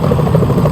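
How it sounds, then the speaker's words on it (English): Helicopter in Metal Gear Solid 2, a steady low rotor and engine drone heard briefly and loudly, with no voices. "Is that a chopper I just heard?"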